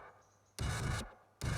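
Poorly recorded metal bass drum, mixed without samples and squashed by a fast compressor so the hard attack is flattened into a woofy, airy, roomy thud; two broad, sustained hits sound alone with a short gap between them.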